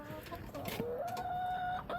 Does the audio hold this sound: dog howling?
no